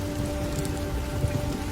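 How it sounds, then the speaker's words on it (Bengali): Rain falls outside at night, a steady patter over a faint low hum. "বাইরে বৃষ্টি পড়ছে"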